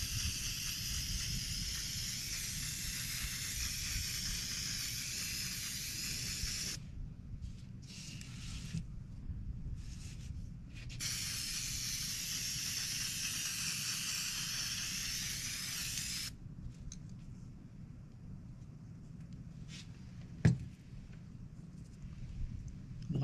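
Lacquer sprayed onto rock molds from all angles, a steady loud hiss of broad spray that cuts out in short gaps, then continues more quietly with a brief clack near the end.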